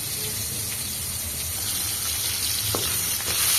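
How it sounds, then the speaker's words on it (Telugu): Chillies and tomatoes fry in oil in a pan for peanut chutney, giving a steady close sizzle and hiss throughout with a faint stir near the end and no talking. "మిరపకాయ టమాటా అయితే బాగా వేయించుకోవాలా ఆయిల్లోనే బాగా అయితే మగ్గించుకుంటే"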